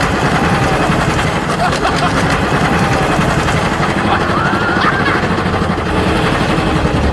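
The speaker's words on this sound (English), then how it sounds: "The engine is seizing." A beater car engine roars continuously at high revs during a burnout, loud and steady throughout with rough low rumble and tire noise.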